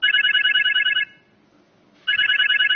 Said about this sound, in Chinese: 对，电话